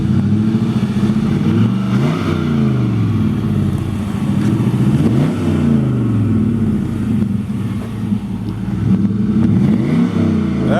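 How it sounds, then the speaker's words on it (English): A 1955 Chevrolet Nomad wagon with a swapped LS1 V8 revs repeatedly, the rumbling idle swelling into several sweeping blips and falling back, loud and close, with a faint mechanical clatter and no talking. "Rev it up a little bit."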